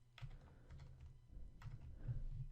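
Keys clatter steadily on a computer keyboard as code is typed, a close, continuous run of light taps with no talking.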